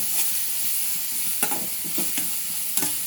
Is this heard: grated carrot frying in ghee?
yes